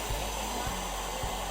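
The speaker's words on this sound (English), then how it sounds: "You're probably wondering why Scott has the blow dryer on the honey" Hair dryer blowing warm air onto harvested honey, a steady faint whooshing hum that runs unbroken, with a few soft low thumps underneath.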